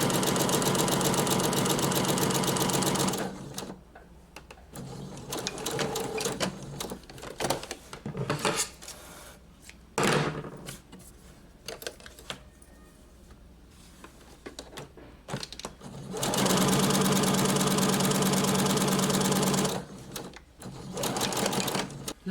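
A sewing machine stitches a blouse sleeve in steady loud runs, stopping and restarting with quieter handling noises in the pauses.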